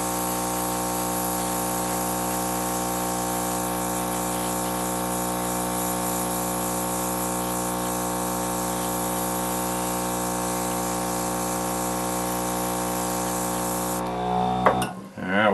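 Spray can hissing steadily as a second coat of paint goes onto a diecast model drag racer, a loud continuous spray that stops abruptly near the end.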